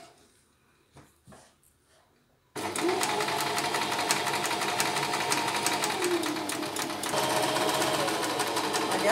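A sewing machine stitches a seam, starting after a couple of quiet seconds of faint handling, then running as a loud, steady, rapid mechanical whir to the end.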